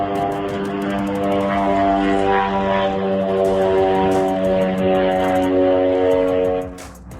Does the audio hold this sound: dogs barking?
no